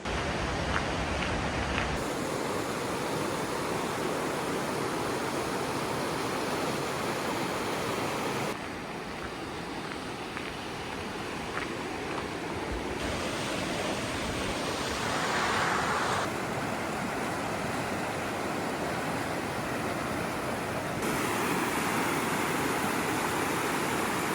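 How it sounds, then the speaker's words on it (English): Steady, loud rushing water of a waterfall fills the whole stretch, a dense continuous roar with no pauses and no voices. "Just hearing the rushing water, birds chirping."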